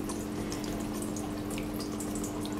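Steady, continuous trickling and splashing of water running through an indoor fish waterfall, with a faint constant hum beneath it and no voices.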